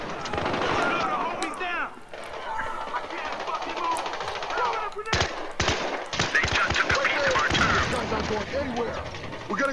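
Rapid machine-gun fire and scattered shots crackle through a Battlefield Hardline firefight, with dense bursts building toward the end and a voice talking throughout.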